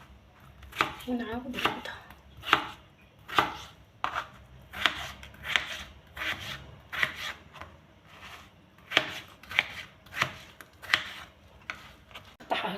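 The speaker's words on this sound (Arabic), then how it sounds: "نجيب هكذا حبيبات بطاطا، نقطعهم ونبتدي بهذه الطريقة" Potatoes are chopped with a knife on a board in steady, evenly spaced thuds, close and distinct, with a brief spoken phrase near the start.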